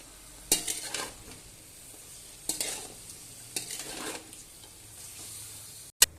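Food being stirred in a pan after salt and turmeric are added: a spoon scrapes and clinks against the metal in several separate strokes over a faint sizzle, with a sharp knock near the end.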